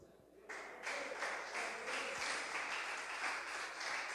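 Church congregation applauding during a worship service, a broad wash of clapping that starts suddenly and holds steady at moderate level, with faint voices mixed in.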